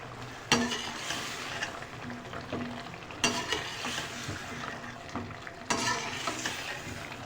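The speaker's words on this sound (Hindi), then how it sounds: "अब हम ये डाल के फ्राई करेंगे।" Potatoes frying in plenty of oil with garlic and kasuri methi, a continuous sizzle broken by three louder stirring scrapes spaced a few seconds apart.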